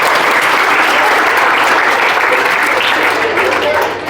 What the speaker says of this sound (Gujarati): તાળીઓ વગાડો બધાને